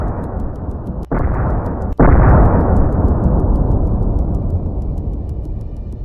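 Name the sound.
HIMARS precision strike explosion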